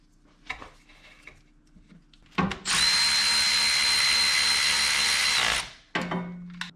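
A power tool tightens a bolt during a spark plug change on a Subaru WRX/STI EJ engine: a few brief clicks, then a loud, steady, high whirring burst lasting about three seconds before cutting off, close by.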